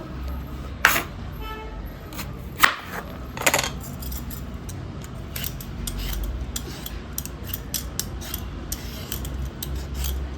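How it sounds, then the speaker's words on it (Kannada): A raw mango gets its stem snipped off, then its skin is scraped and peeled, giving a few sharp close clicks followed by soft, steady rasping strokes. "ಇದರ ತೊಟ್ಟನ್ನು ಕಟ್ ಮಾಡಿ ಆಮೇಲೆ ಸಿಪ್ಪೆ ಹೆರಿಯುವಂಥದ್ದು"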